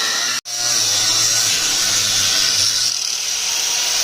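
A power cutting tool slices through the seized, spinning top strut mount bolts on a 2012 VW Jetta during suspension work. A brief start is followed by a steady, loud, close-up high whine that runs without pause.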